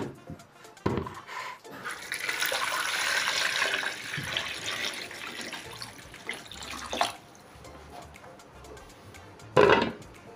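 Water runs and splashes in a sink while peeled cassava is rinsed, with a few louder sloshes and clunks near the end.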